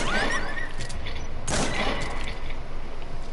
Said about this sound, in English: We can just shoot them.